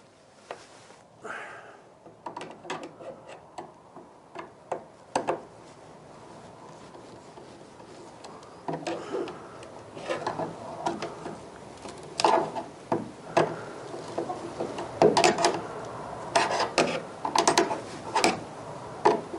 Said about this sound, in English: And tighten it up with a screwdriver.